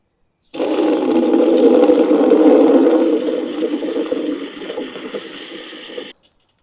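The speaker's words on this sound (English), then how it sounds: "Let's just fill that up with some more water." Water pours from a tap into a bucket for soaking an orchid pot, a loud steady rush that deepens and softens partway through before cutting off abruptly.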